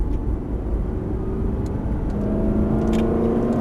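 An Aston Martin sports car engine drones steadily on a race circuit and then builds in pitch as it accelerates, loud and close throughout, with no voices over it.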